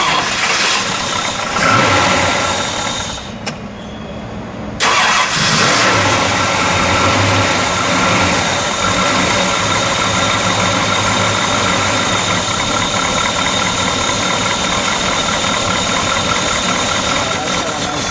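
A 1969 Ford Fairlane Cobra with a 428 V8 cranks and fires, then settles into a loud, steady, lumpy idle with a deep rumbling exhaust note that runs unbroken to the end; a voice speaks briefly over it.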